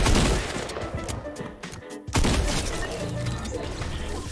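Gunshots in a Fortnite match, a loud near volley of sharp cracks and bursts, broken by a short gap before another heavy barrage.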